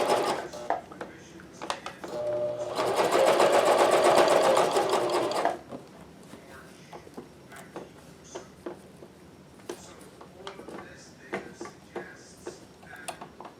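A Janome CoverPro 1000CPX coverstitch machine sews very lightweight fabric with the tension set to zero. It runs in one loud, close whirring burst of about three seconds, then stops, leaving only faint clicks and handling ticks.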